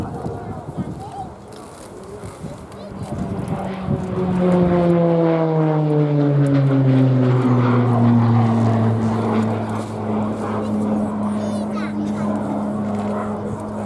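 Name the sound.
RAF Tucano turboprop aircraft flying display at airshow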